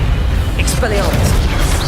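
An Expelliarmus spell cast in Hogwarts Legacy lands as a short booming burst with bright whooshing sweeps, heard under a loud voice.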